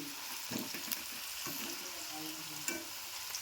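Potato french fries frying in hot oil, a steady dense crackling sizzle with a few louder pops and scrapes as the fries are added and turned.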